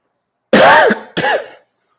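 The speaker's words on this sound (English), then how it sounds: "Oh, sorry for coughing in your ear." Two loud, close coughs in quick succession, the first longer and harsher, the second shorter, with silence before and after.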